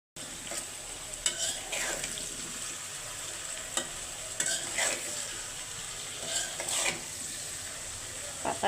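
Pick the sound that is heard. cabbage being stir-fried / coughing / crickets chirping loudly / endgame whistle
cabbage being stir-fried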